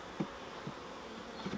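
Honeybees buzz around an open hive in a constant humming drone, with a few louder individual buzzes passing close by.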